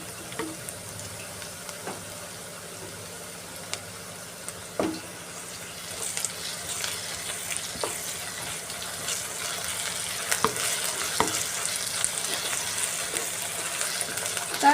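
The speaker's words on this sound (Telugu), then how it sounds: "రెండు నిమిషాలు బాగా ఫ్రై చేసుకుందాము పచ్చి వాసన పోయే వరకు" Ginger paste fries in oil in a pan with a soft, steady sizzle that grows a little louder over time, broken by occasional sharp clicks and scrapes of a spoon, with no talking.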